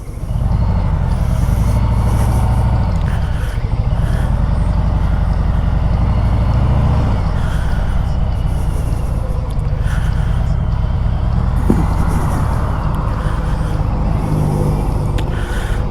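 Steady roar of road traffic as cars and trucks pass close by, heard from a moving motorcycle rider's helmet, loud and continuous with low engine rumble and a brief hiss near the end.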